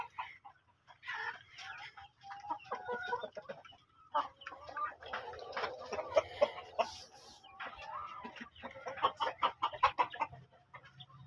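Chickens from a third batch of farm-raised birds cluck and chatter steadily as a hungry flock waits to be fed, many overlapping calls close by with no talking.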